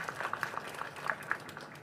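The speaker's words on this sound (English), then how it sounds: "Another clap for Ian" Audience applause for a speaker at an investment forum, scattered moderate clapping from a modest crowd with distinct individual claps, fairly close and under faint background voices.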